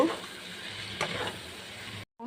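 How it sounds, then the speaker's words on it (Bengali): Fried potatoes sautéing in a spice masala in a pan, a close sizzle with a stirring scrape in the middle, ending abruptly in brief silence. "এবার ওর মধ্যে ভেজে রাখা আলুগুলো দিয়ে দেব। দিয়ে আরও কিছুক্ষণ এটাকে কষিয়ে নেব।"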